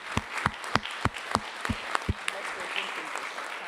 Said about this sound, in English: So please, round of applause for you as well